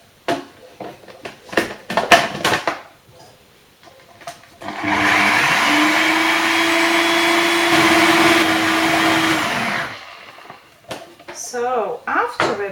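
A blender grinds almonds into almond butter with a loud, steady whirring roar lasting about five seconds. Clattering, handling noises and short musical or vocal bursts come before and after it.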